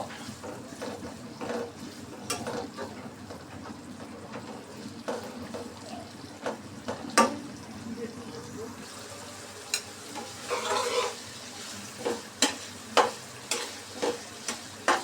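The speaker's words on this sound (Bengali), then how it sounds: "আরও কতক্ষণ নেড়ে চেড়ে ভালো করে ভেজে নেব" Beef in soy sauce being stirred and fried in a pan gives a steady sizzle with repeated scraping and clacking stirring strokes, close and moderately loud, with no talk.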